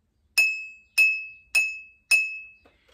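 A glass in a homemade water xylophone, the sixth in the row and still unfilled, is struck four times at an even pace, each strike a bright ringing clink with a steady high tone that rings on briefly and fades.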